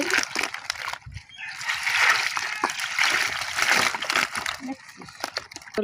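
Water splashes and sloshes steadily as native koi fish freshly caught from a pond are washed by hand, a busy, close wet churning that lasts nearly six seconds.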